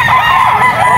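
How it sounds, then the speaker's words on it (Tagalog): A Kelso yellow-legged stag gamecock lets out a single loud, close crow, a harmonic cock-a-doodle call filling the short moment with no talk over it. "Ito ay isang Kelso, yellow legged stag."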